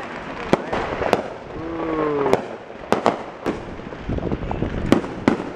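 Outdoor New Year's fireworks bang repeatedly at irregular intervals, some sharp and loud, with crackling between bursts and a whistling rocket rising midway.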